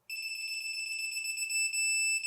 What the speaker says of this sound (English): Torque wrench wasn't on. I was like, why isn't it beeping?